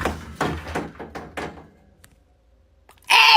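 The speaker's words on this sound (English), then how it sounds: "Hey, the door's broken!" A broken household door thuds and rattles in a quick series of about six knocks close by, then falls quiet before a brief loud burst of noise at the end.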